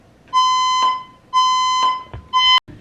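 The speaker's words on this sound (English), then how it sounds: "That fire alarm went off for, I think, 15 minutes" A building fire alarm blares in three loud, long electronic tones, each lasting about half a second with brief gaps between, heard clearly and close up with no talking.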